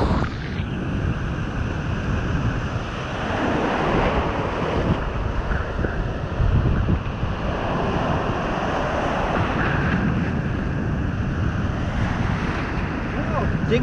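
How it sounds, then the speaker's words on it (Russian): Stormy sea surf pounds the beach at Ordzhonikidze, Crimea, rolling roars of breaking waves rising and falling amid strong wind buffeting the microphone, loud and close. "Все, большая прошла волна."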